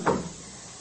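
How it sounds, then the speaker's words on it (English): A door swings shut indoors in a home with a fire burning, giving a single soft thud near the start that fades into quiet room tone. "I'll close the door."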